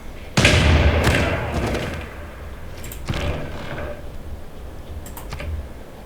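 Bombard attacks in Civilization VI, heavy thudding impacts: one loud hit followed by a decaying rumble, then a softer second strike and a few quieter knocks near the end.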